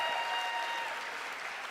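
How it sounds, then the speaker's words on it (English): Audience applause at a Heart to Heart convention product event, a steady wash of clapping that carries evenly through the clip at moderate distance, no voices over it. "Another round of applause for them, everybody."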